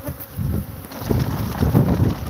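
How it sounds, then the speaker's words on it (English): Bees buzz close by outdoors in a busy, fluttering drone that rises and falls in loudness, with no voices over it. "So look at all these bees out here,"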